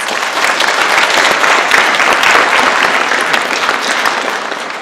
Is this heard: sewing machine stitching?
no